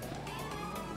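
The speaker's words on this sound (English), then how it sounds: "Well, I heard some sirens." A police siren from the video game GTA 5 wails faintly and distantly in a brief rising tone, heard alone.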